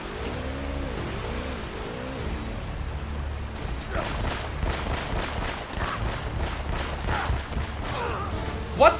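Video-game gunfire from Uncharted: after a stretch of low rumbling ambience, a run of rapid, sharp shots crackles out in quick bursts, fairly close and loud, with a final louder hit at the end.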